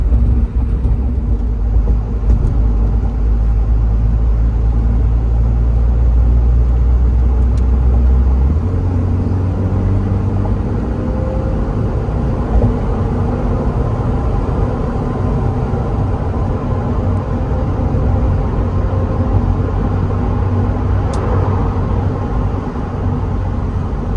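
A 1992 Porsche 968 Cabriolet moving through traffic gives a steady low engine and road rumble heard from inside, unbroken for the whole stretch, with no one talking.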